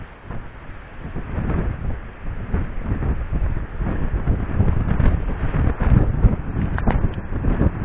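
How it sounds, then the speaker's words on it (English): Strong breeze buffets the microphone on the coast at Trebarwith Strand beach, a loud continuous rumbling gust noise that swells and eases throughout, with no one talking. "it's a little bit breezy"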